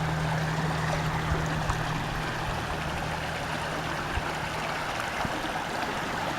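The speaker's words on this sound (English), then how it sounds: "Now this is a creek, okay?" Small mountain creek on Yosemite's North Rim, flowing water gurgling and trickling close by in a steady, even wash with faint ticks and splashes, no one talking.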